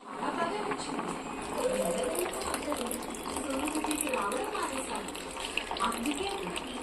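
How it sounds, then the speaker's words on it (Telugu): A steady stream of water pours and splashes into a pot of moong dal, close and continuous, with some background noise but no clear talk. "ఓన్లీ ఈ వాటర్ మాత్రమే వేసుకుంటున్నానండి"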